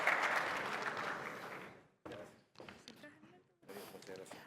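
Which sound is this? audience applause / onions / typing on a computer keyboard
audience applause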